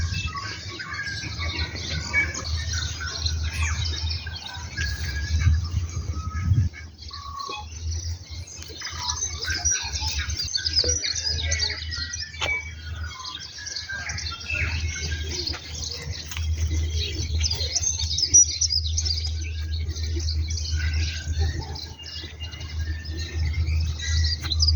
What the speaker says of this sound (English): The birds are still singing.